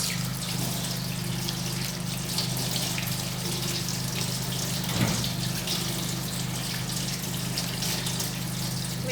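Pineapple is rinsed under a running kitchen tap, a steady close rush of water with a low hum underneath and a brief splash near the middle.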